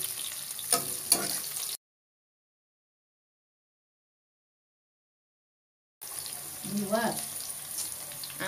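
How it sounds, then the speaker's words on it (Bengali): Sliced green chillies and winter vegetables frying lightly in a pan for a bhaji, a soft sizzle with occasional stirring, broken by a long silent gap before the sizzle resumes. "হালকা একটু ভাজা নেব"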